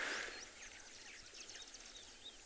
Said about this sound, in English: You can hear the clapperlarks in the background